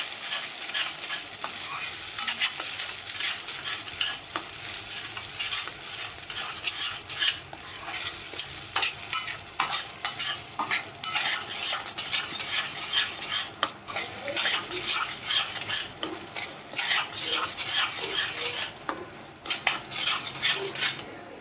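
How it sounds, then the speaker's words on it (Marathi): Masala and fresh coriander roast in hot oil for a village-style egg curry while a spoon stirs them and scrapes the pan. The sizzling is loud and close, with frequent metallic clinks and no talking. "यात थोडी कोथिंबीर टाकून घेते आणि चांगलं असं परतून घ्यायचा मसाला तेलामध्ये चांगलं भाजून घ्यायचा"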